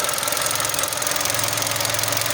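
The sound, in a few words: car engine idling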